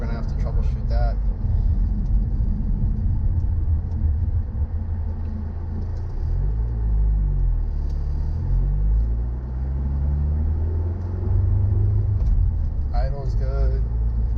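A rebuilt Audi A4 engine idles with a steady low rumble heard from inside the car, while people talk over it.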